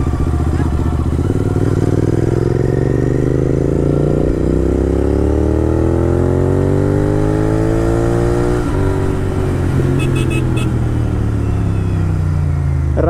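Royal Enfield Bullet motorcycle engine starting after sitting idle for six months, running loud and close with a steady thumping idle and rising revs, a clatter near the end, no talking.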